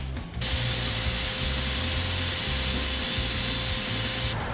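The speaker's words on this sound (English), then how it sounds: "I don't have a good way of collecting dust with this belt sander" A belt sander runs steadily on wood at close range, a continuous rough whirring hiss with a low rumbling hum underneath, starting and stopping abruptly.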